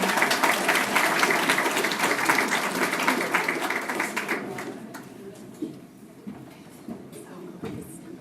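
Warm applause fills a banquet hall at a veterans' dinner, then fades out after a few seconds into quieter room murmur with occasional knocks.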